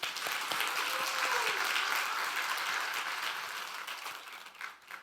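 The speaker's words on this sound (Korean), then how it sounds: "박수 좀 보내주세요." Applause from a church congregation during a Sunday worship service, a dense sustained wash of many hands clapping that stays steady and fairly loud before thinning out near the end, with no speech over it.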